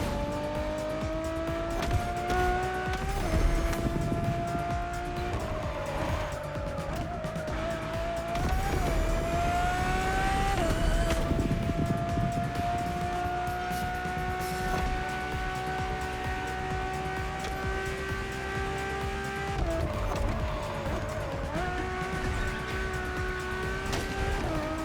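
A road-legal Ferrari Formula One car driven in The Crew Motorfest in Hawaii, its high engine whine rising and falling through gear changes, with tire squeal and a car passing, loud and steady with no talk.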